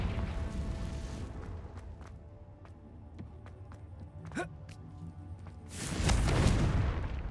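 The explosive Confringo spell in Hogwarts Legacy: after quiet ambience dotted with small ticks and a brief whoosh, a loud, broad blast erupts near the end and rumbles on for over a second.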